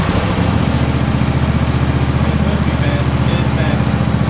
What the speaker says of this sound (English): It's the first big lawnmower I bought though.